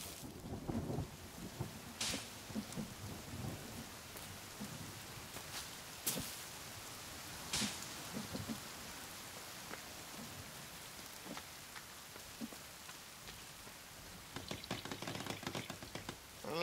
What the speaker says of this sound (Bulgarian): И почна да гърми.